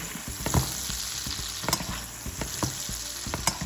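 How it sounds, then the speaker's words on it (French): Chicken fillets sizzle steadily in a pan while hot cooking juices are spooned over them, a constant close crackle broken by a few sharper spatters and light clinks of the spoon, with no voices. "vous venez récupérer le jus de cuisson et vous arrosez"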